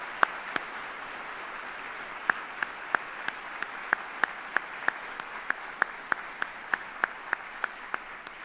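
Polite applause from the audience at an Army retirement ceremony honoring military families: a soft, steady wash of clapping with a few sharper individual claps standing out, fairly distant and even throughout.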